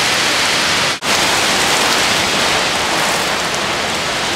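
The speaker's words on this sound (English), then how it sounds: "she's storming pretty good now" Steady, loud broadband hiss of a heavy outdoor rainstorm with wind buffeting the microphone, continuous throughout apart from one brief dropout near the start.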